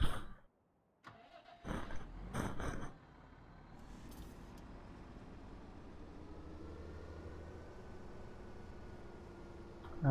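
A tractor engine in a farming video game cranks with a few sharp bursts, then catches and settles into a quiet, steady idle hum.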